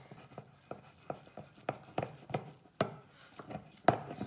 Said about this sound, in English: now mix it all by hand